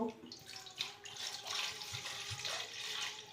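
Water poured into a pongal pot marked with turmeric and dots for an Ashadham offering, a continuous splashing stream lasting several seconds at close range.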